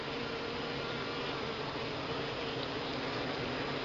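Honeybees crowded on a beehive's landing board after returning from the field make a dense, continuous buzzing hum, steady and close throughout, with no voices.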